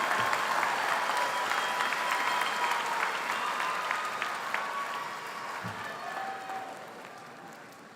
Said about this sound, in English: One more round of applause for the 2023 graduates of the Master of Science in Finance program.